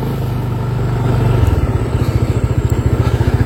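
An automatic motor scooter rides along a road on the way back from a transmigration settlement, its engine droning steadily and then settling into a pulsing, rhythmic putter that stays close and fairly loud with no one speaking.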